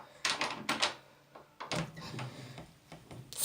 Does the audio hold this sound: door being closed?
yes